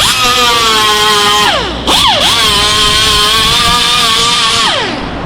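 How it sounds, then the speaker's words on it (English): A small pneumatic sander with fine grit smooths a John Deere M665 mower exhaust, a loud high whine that winds up, dips and drops briefly, then revs back up and runs steady before spinning down. "grit on a little pneumatic sander"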